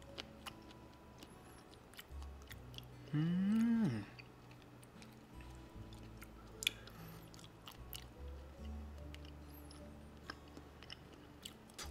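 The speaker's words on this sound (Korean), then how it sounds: "바로 먹어보도록 하겠습니다." Close, crunchy chewing of a wasabi-flavoured octopus snack with a squid-jeotgal-like texture, soft irregular bites with no talking, plus a brief louder tonal noise near the start.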